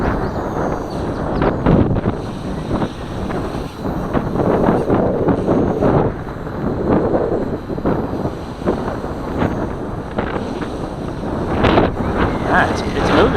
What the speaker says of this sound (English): The wind's just started up pretty heavy.